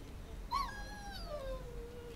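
A dog in Dragon Age Origins gives a single high, drawn-out whimper that slides downward in pitch, fairly close and clear over a quiet background with no talk.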